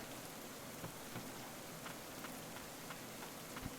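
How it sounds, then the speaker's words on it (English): Steady rain in the video game Ender Lilies: Quietus of the Knights, a soft continuous hiss of falling drops with scattered faint ticks, fairly quiet and unbroken throughout. "And it's really starting to rain."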